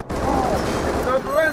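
Video game gunfire from Bullet Witch, a dense, continuous fusillade of rapid shots at steady loudness, with a voice talking over it.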